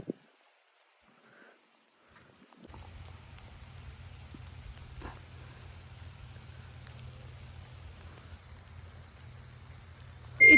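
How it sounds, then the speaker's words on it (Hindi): Steady light rain patters on trees and surfaces in autumn in Ontario, a soft continuous hiss after a quiet opening, with a sharp knock at the very end. "बारिश हो रही है, पेड़ ऐसे हैं, मौसम इतना अच्छा है।"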